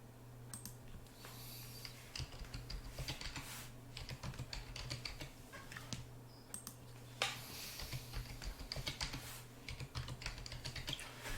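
Password being typed on a computer keyboard, a quiet, steady run of close key clicks with irregular rhythm and small pauses, over a low background hum.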